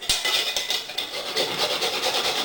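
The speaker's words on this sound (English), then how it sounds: "You can actually use the little nuts and grate them, which is what we're going to do. And I'm going to use my microplaner." Whole nutmeg is grated on a microplane, producing quick, close, repeated rasping scrapes in an uneven rhythm with no talking.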